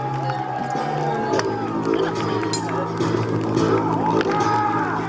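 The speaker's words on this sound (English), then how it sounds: "A big cheer." A crowd at a medieval siege reenactment of Kenilworth cheers as the Earl of Norfolk arrives, with a broad continuous roar of voices at even loudness and a few brief higher shouts or whistles within it.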